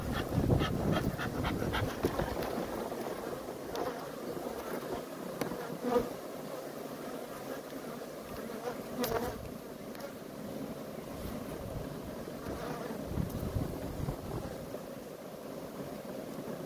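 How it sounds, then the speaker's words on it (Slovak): Honey bees buzz around hives on a windy day, a steady, busy swarm drone with individual bees passing close now and then. "Veterná dneska, takže sú trošku rozbláznené tie včely."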